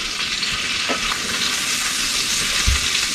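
Pork pieces sizzling in a hot skillet, a steady bright crackling hiss of frying fat with a soft bump or two, no voices over it.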